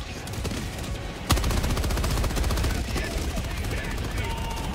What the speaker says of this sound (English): Careful of the MGs. They're firing.